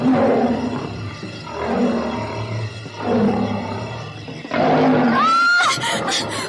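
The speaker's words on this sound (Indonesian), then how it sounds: "terdengar suara harimau tak jauh dari tempatnya berdiri" A tiger roars repeatedly in an audio drama set in dark wilderness, giving loud rumbling roars in a steady rhythm. A higher, whining animal cry joins near the end.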